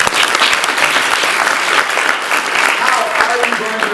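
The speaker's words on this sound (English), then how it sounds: "Round of applause." Enthusiastic audience applause at a startup pitch event, a dense, lively burst of many hands clapping that continues steadily for several seconds, with faint voices mixed in toward the end.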